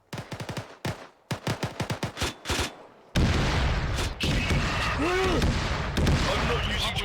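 Rapid bursts of automatic gunfire from dual purpose rounds in the military shooter Arma 3, first as several short staccato volleys and then a sustained loud barrage with booming impacts.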